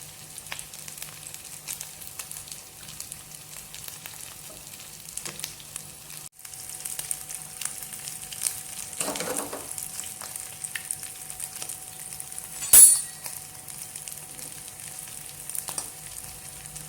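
Potato tikki kebabs fry quietly in a pan, giving a faint, continuous sizzle with a few small crackles and one brief louder clatter near the end.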